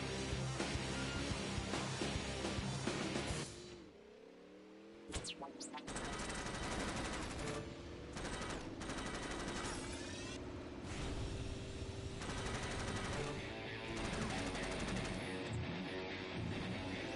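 Continuous rapid gunfire in the combat racing game Jak X Combat Racing, dense volleys layered over engine roar and game noise with only a short lull, while a voice talks over the action.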